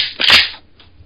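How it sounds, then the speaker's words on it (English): A single loud, close metallic clack as a Mossberg 500 pump shotgun is unloaded, followed by a faint light tap as the ejected shell drops to the floor. "And this is the sound of me unloading a shotgun."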